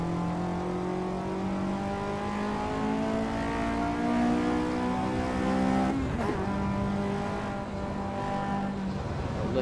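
A car's engine drones steadily with rising harmonic tones as it drives and accelerates on a cruise, with a sustained, fairly loud engine note throughout and a brief disturbance near the middle.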